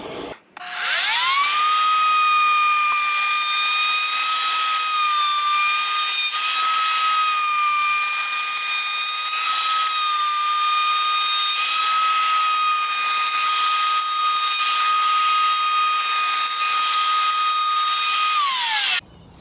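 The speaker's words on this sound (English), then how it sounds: "I am going to be using this type of router bit, and it's going to give it a nice bevel, nice groove all along the edge" A router with a bevel bit cutting along the edge of a wooden piece spins up with a rising whine, then holds a loud, steady high-pitched scream for about seventeen seconds before it cuts off.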